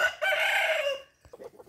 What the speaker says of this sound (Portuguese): Ali tá as galinhas, gente, ó. Vocês estão ouvindo barulho?